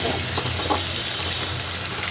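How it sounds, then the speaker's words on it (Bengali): Chopped onions fry with fenugreek seeds in a pan, giving a steady, close sizzle with faint crackles that continues unbroken and without talk. "ঠিক আছে, পেঁয়াজটা ভাজা ভাজা হতে থাকবো।"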